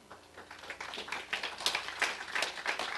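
Scattered hand claps from a small audience at a public meeting, a light patter of overlapping claps that stays fairly quiet and builds slightly toward the end, with no talking.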